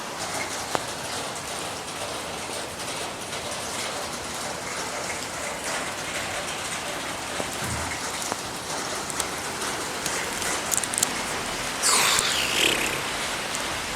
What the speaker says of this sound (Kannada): ಎಸ್, ಮಳೆ ಬರ್ತಾ ಉಂಟು.